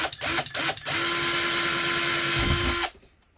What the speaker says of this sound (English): drill my pilot holes